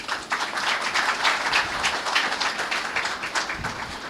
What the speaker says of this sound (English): I'm a bit worried they're applauding early